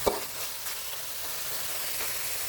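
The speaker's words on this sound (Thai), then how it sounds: "ผัดจนกว่าเนื้อหมูของเราจะสุกนะครับ" Pork stir-fried with curry paste sizzles steadily in a hot pan for a Thai pork and eggplant curry, a dense, continuous frying hiss up close with a brief clatter at the start.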